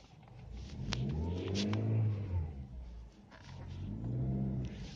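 Car driving and turning at low speed, the engine rising in a smooth rev, easing off, then building again; a mid-level rumble heard up close from inside the vehicle with no talk.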